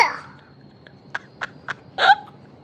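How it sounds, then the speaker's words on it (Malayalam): A small sick child at home in the morning gives a few short, close coughs in quick succession, ending in a slightly longer hoarse burst. "ചുമയാ?"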